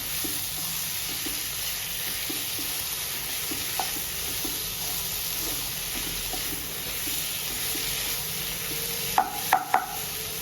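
Garlic sizzling in a pan for raw mango kadhi, a steady broad hiss of frying with faint stirring taps throughout and a few sharp clinks of a utensil near the end.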